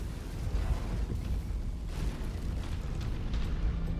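Explosions in the video game MechWarrior 5 as fuel reserves are destroyed, a loud sustained rumbling roar with bursts and booms layered over one another.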